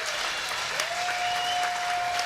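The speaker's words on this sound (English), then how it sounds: "And a big round of applause for all of the players," Steady applause from the crowd at a charity hockey game fills the space, even and sustained throughout, with a faint whistle-like tone running underneath.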